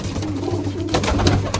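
A female pigeon coos close by in a low, steady murmuring tone, with a few soft rustling bursts near the end.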